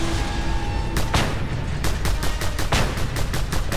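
Just Cause 2 video game combat with pistol fire and frag grenade explosions: a dense barrage of sharp gunshots in rapid bursts over rumbling blasts, loud and continuous, with no talking.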